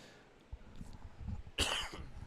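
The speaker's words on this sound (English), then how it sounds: "Apologize for the coughing." A soccer match commentator coughs, a short harsh burst of coughing close to the microphone with no speech, heard during a Rose Hill boys soccer broadcast.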